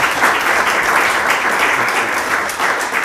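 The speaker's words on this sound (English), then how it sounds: "I would ask you to give them a round of applause" Audience applause for a panel at a WTO public forum on decarbonizing energy-intensive metal sectors: a full, even burst of clapping that holds steady throughout, fairly loud and close, with no talk over it.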